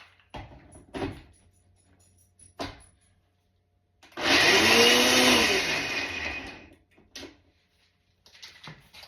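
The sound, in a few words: blender pulsing to chop cranberries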